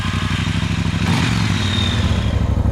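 A Speedmaster motorcycle engine runs close by with a rapid, pulsing exhaust beat, the revs lifting briefly in the middle and carrying on as a steady throbbing rumble.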